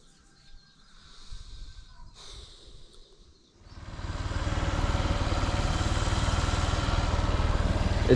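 Faint outdoor ambience with a bird and light rustling comes first. Then a small motorcycle engine starts up on a rural mountain road and idles loud and close in a steady, even putter.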